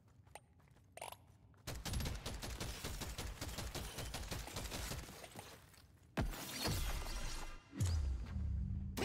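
Rapid, sustained automatic gunfire in the video game Deep Rock Galactic: Survivor, a dense loud stream of rounds broken by a short pause and then resuming, with crashing impacts near the end.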